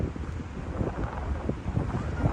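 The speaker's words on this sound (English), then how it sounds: "things are getting a bit windy here" Wind gusting around a city street near Tokyo's Marunouchi district, a rough buffeting roar battering the microphone in uneven surges, with no voices.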